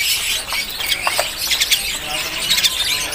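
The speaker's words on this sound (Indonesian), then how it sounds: "Tersedia juga untuk penampakan dari burung jalak kebo, teman-teman." Jalak kebo starlings calling among caged birds at the Pramuka bird market, a busy wash of shrill squawks and squeals with overlapping chatter, close and continuous.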